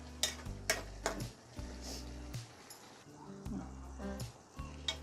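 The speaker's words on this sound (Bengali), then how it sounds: "ঝোলটা আমি একটু হালকা নেড়ে আরও এক মিনিটের মতো আমি রান্না করে নিচ্ছি" A spoon scrapes and knocks against a pot while shrimp and ash gourd curry simmers, making several short clinks and soft stirring scrapes over a low background hum.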